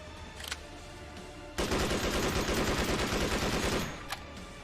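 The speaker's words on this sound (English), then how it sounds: "The German Sturmgewehr 44 with animations from Adin." Sturmgewehr 44 assault rifle in the video game Projekt Z firing a sustained automatic burst of about two seconds, rapid loud cracks in steady rhythm, framed by quieter single sounds before and after.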